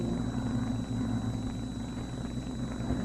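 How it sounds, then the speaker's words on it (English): Propeller aircraft engines drone steadily overhead as a radio drama sound effect, a continuous low rumbling hum with a faint high whine, holding at an even, moderate level throughout with no talk. "hope these planes don't disturb us"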